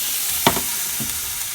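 Roasted asparagus hits hot olive oil in a pan with a sharp crackling burst, then settles into a soft steady sizzle with a second smaller pop, heard up close without talk.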